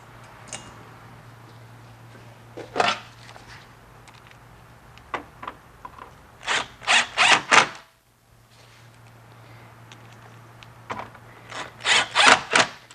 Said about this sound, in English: And we can put our screws in place.